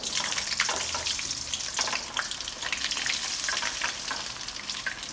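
Eggplant fries in a pan with a constant dense sizzle and crackle, loud and close, with scattered pops and spits throughout and no voices.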